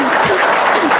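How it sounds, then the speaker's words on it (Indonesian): Audience applause at an Indonesian talk, a short steady burst of clapping from a crowd that fills the whole moment with no break. "Tepuk tangan dong, luar biasa."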